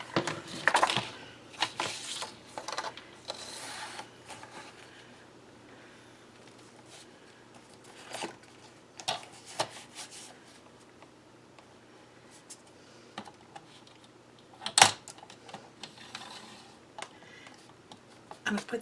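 A blade cuts an 8.5 by 11 inch card-stock base sheet, making sporadic clicks, ticks and short scraping strokes with one sharp snap near the end, amid quiet gaps and some low talk.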